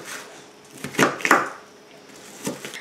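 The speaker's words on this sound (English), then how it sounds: "I'm just slicing my onions" A knife slicing onions on a cutting board: a few crisp cuts close by, two quick strokes together and another a moment later, in a quiet kitchen with no talking.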